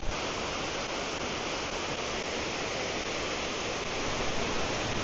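A waterfall on the Isle of Mull roars as a dense, unbroken rush of falling water, loud and constant throughout, with no voices.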